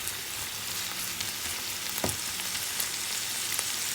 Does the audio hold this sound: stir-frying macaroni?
yes